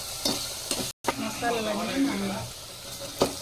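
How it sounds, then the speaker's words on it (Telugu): Ginger paste sizzles in hot oil with turmeric for a village-style Telangana mutton curry, a close, steady frying hiss broken by a brief gap and a few scraping stirs. "అల్లం పేస్ట్ అయితే ఫ్రై అయింది. పసుపు వేసుకుందాం."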